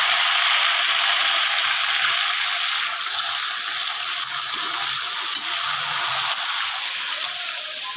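Cauliflower and potato frying in a spice mix in a pan, a loud, continuous hiss of sizzling with faint stirring scrapes throughout.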